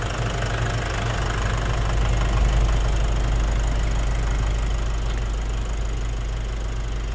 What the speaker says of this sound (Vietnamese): Vâng, đây là tiếng động cơ đang hoạt động đây.